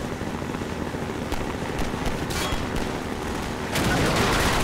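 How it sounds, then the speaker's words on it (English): Gunfire aimed at the player in Half-Life 2, a rattling stream of sharp shots over a constant rumbling background, with a louder surge near the end. "who's shooting at me?"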